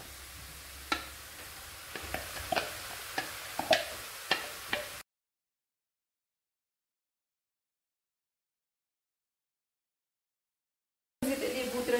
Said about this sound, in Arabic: خليوها تشحر واحد شويه. ما تشحرات البصله